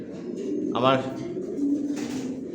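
Pigeons resting in a rooftop bedding loft coo softly and steadily in the background while someone talks over them.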